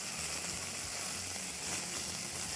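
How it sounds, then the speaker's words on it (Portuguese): Onion and garlic frying in a pan for a crab-shell dish, a steady close sizzle with dense crackling hiss that keeps an even level throughout, no talking over it. "Aí nós vamos fritando aqui."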